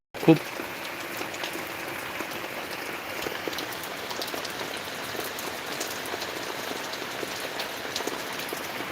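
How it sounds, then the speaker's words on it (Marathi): Very heavy rain pours steadily in a farming village, a dense, continuous hiss of drops on surfaces, close and loud, opening with a brief sharp knock. "खूप जोरात पाऊस"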